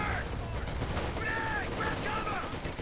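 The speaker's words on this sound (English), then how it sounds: "MG34 provides a good coverage there" Rapid bursts of MG34 machine-gun fire in a Company of Heroes battle, crackling through a constant, dense wash of combat noise with no clear gaps.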